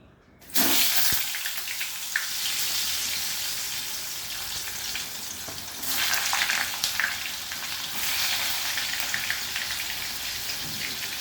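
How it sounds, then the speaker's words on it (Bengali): Pointed gourd pieces coated in salt and turmeric sizzle in hot oil in a home kitchen, a steady loud crackling fry that continues alone without voices. "নুন হলুদ মাখিয়ে নিয়েছি পটলগুলোতে, এবার আমি ভেজে নেব।"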